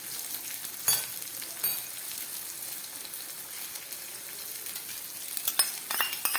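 Potato and pointed gourd frying in a pan with ginger paste just added, a steady soft sizzle with occasional sharper crackles and stirring scrapes, close and continuous with no talk.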